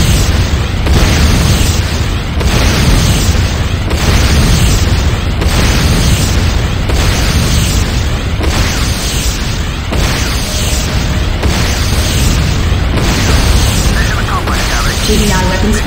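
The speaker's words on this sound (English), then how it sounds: "Nod Tiberian refinery destruction imminent. Nod Tiberian refinery destroyed." Explosions and heavy battle noise as a Nod Tiberian refinery is destroyed in the Renegade video game, a dense, loud, continuous roar of booms and bursts with repeated pulses.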